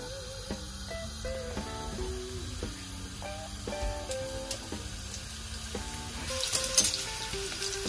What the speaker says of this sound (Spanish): una vez que esté caliente el aceite vamos a poner las torrejas